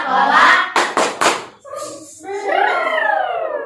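In a fourth-grade classroom, children clap the Tepuk Coca-Cola rhythm: a quick run of three or four sharp claps set between their chanted voices, loud and close.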